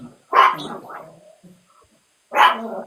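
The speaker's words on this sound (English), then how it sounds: "My family's just walking in the house, so the dog's going crazy." A dog barks excitedly as family members come into a house, two loud bursts of barking separated by a quieter stretch.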